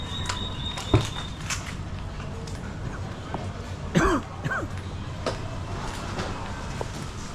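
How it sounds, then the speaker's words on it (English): A person coughs from breathing in very hot pepper fumes in a Bangkok Chinatown alley, with a couple of short coughs and throat clearing over busy street background noise. "I breathe them in, I'm coughing."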